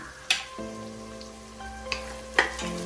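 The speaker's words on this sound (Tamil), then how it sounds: "இப்போ சீக்கிரமாகவே வெங்காயம் வந்து வதங்கி வரும்." Onions sauté with a pinch of salt in a pan, a soft, quiet sizzle with a few sharp clicks and scrapes from stirring, and no voices.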